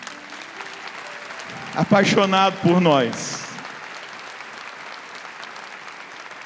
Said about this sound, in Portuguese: Eu queria que você agora aplaudisse o amor desse Deus